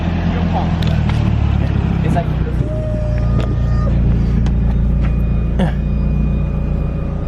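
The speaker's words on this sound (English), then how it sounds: "Do you hear the fuel pump?" A fuel pump hums steadily in a 3G Eclipse turbo car, a constant low drone heard close, with brief scattered clicks and voices talking over it.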